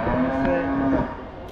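A close, loud, sustained moo from a cow at a livestock exhibition fair, a single long call that fades into the crowd background.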